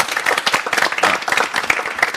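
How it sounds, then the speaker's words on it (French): Studio audience applauding on a French-language artistic TV show, a dense, steady wash of many hands clapping close by for a couple of seconds with no talk over it. "Applaudissements, s'il vous plaît."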